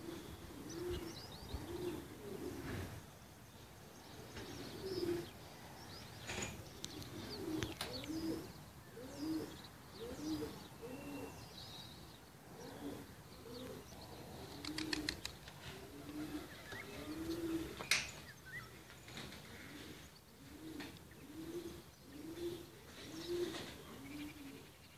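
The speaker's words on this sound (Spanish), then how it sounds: "Paloma va para la nave aquella." A pigeon coos outdoors near a farm shed, giving a long series of soft, low, repeated cooing phrases at a steady rhythm, fairly faint, with occasional chirps from other birds and light background noise.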